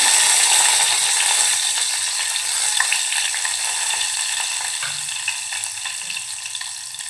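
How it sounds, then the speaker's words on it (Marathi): Crushed garlic and curry leaves sizzling steadily in hot oil in a pan for a Malvani-style onion chana dal, a continuous bright frying hiss with faint crackles and no voices. "आपलं तेल गरम झालं आहे त्यामध्ये आपण ठेसलेला लसूण घालूया कढीपत्ता घालूया"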